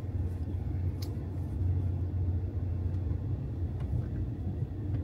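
A car engine gives a steady low rumble from inside the moving vehicle, with faint road noise and a couple of light clicks.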